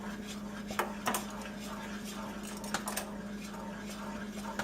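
Caramel sauce with butter being stirred in a pan: faint, irregular utensil clinks and scrapes against the pan over a steady low hum, a handful of sharper taps scattered through.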